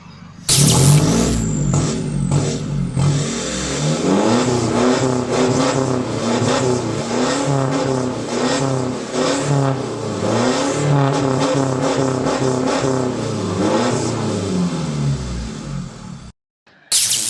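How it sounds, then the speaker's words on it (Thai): An Isuzu Hi-Lander Cab4 pickup truck engine revs loudly and steadily through a throaty aftermarket exhaust, rising and falling in pitch for about fifteen seconds, close by with no talking. "เดี๋ยวเราไปฟังเสียงท่อกันบ้างนะครับเพราะว่าคันนี้ อ่าลูกค้าใส่ท่อนะครับป่ะ ฟังท่อเลยครับ"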